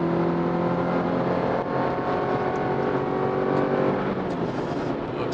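A Chevrolet Colorado pickup's engine pulls hard under acceleration at speed, a loud steady drone with rising tonal whine and wind rush, engine note dominating throughout with no talking.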